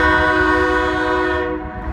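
A short train on tracks near a road crossing, heard as a loud, sustained horn-like tone with steady rumble beneath, holding level before easing slightly toward the end.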